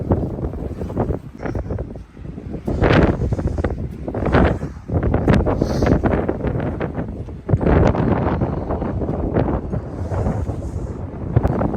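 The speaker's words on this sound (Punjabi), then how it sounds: "ਹਵਾ ਬਹੁਤ ਜ਼ਿਆਦਾ ਤੇਜ਼ ਹੈ" Strong wind gusts buffet the microphone in repeated roaring bursts, loud and close, rising and falling unevenly, blowing sand among the mountains near Kaza in Spiti, Himachal Pradesh.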